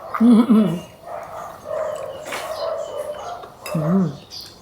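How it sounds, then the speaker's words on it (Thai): A dog barks in two close, loud bursts, one at the start and one near the end, with softer whimpering and background sounds between. "โหเสียงหมาเห่าเลย"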